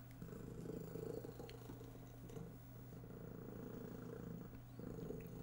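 Steady, low rumbling purr from a kitten, close and continuous with slight swells in loudness, no talking over it.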